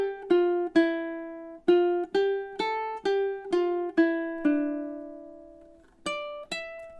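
Fingerpicked ukulele phrase from a Bach Bour√©e covering two bars: bright, close plucked notes in an even rhythm, one long note left to ring and fade before the last few plucks, played alone without speech.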